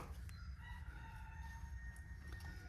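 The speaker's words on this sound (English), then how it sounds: "You hear my chickens" Roosters crow in the distance over a steady low background rumble, with faint chicken clucking mixed in.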